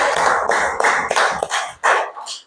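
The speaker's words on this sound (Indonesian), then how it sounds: "Tepuk tangan kelompok 2." Rhythmic, evenly spaced group clapping from a classroom audience applauding group 2 after their physics and chemistry presentation, moderately loud and close, with no talking over it.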